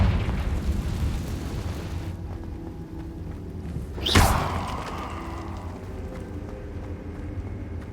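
A Confringo blasting spell in the Hogwarts Legacy video game goes off as a single loud burst near the four-second mark. It rises sharply and then rumbles away over a steady low background bed, with no talk.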